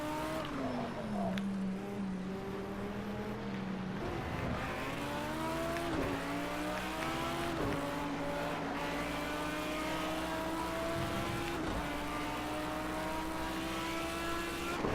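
Racing car engines in a video game with Mercedes and BMW rivals, a loud, continuous high engine whine that climbs in pitch and drops sharply at each gear change, with several shifts throughout.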